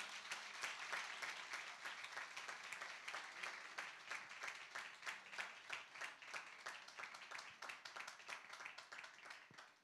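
An audience at a church anniversary celebration applauds the pastor and his wife with dense, steady clapping from many people. Individual sharp claps are distinct and the applause holds strong throughout before tapering slightly at the end.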